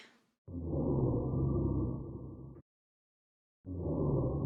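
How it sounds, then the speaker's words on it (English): Susie snores while sleeping in the video game Deltarune, two long, low, rumbling bursts of sound separated by a second of silence, loud and close. "Wait, that is the sound of Susie sleeping?"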